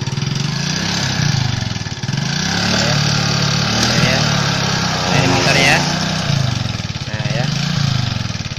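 A motorcycle found on the road runs with a steady, rough idling engine close by, its pitch wavering slightly as people talk over it.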